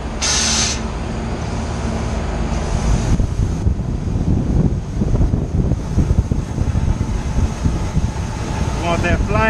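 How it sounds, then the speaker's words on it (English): Loud, steady wind roars against the microphone with broadband rushing noise, and brief hissing bursts at times. "Man, it's windy out here."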